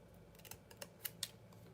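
Scissors cutting paper for a tag book, a few quiet, crisp snips in quick succession, close and faint, with no talking.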